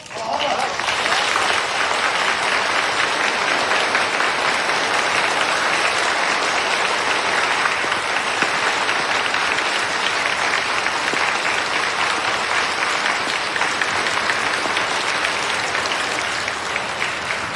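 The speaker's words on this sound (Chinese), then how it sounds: "我们现场的朋友们，以热烈的掌声" A studio audience at a stage show breaks into warm, sustained applause, a dense wall of clapping that holds steady and loud throughout.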